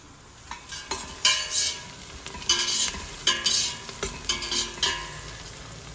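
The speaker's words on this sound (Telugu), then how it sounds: "మన ఉల్లిపాయలు బాగా వేగుతున్నాయి" Onions frying in a pan with two bay leaves for sweet corn biryani, a steady close sizzle broken by repeated bursts of stirring and scraping, with no talk.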